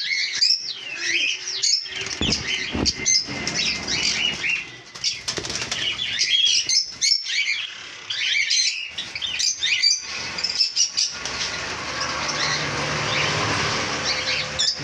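Lovebirds and cockatiels in a bird shop produce a busy chorus of close, high chirps and tweets with sudden bursts of fluttering wings, briefly dipping in the middle before settling into a softer, steady twitter.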